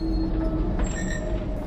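A train rolls along the rails with a heavy low rumble and a thin, high wheel squeal that rises briefly, loud and continuous with no speech.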